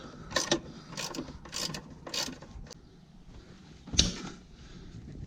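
A ratchet wrench tightens the seat mounting bolts on an Ursus C-360-3P tractor, giving quick bursts of close clicking in short runs and then one sharper metallic click near the end, with no voices.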